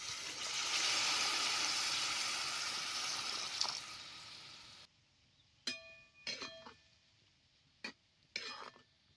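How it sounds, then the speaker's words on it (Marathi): Water pours into a pan of frying Bombay duck fish with a loud rushing hiss for several seconds, then stops, followed by a few metallic clinks and scrapes. "आता ह्याच्यात जरा पाणी ओतायचं."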